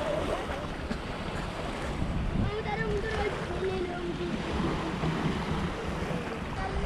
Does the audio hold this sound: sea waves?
yes